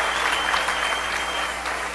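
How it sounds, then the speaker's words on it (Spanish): A church congregation bursts into dense, sustained applause that fills the room evenly and loudly from start to finish. "Aleluya, un aplauso al Rey bendito."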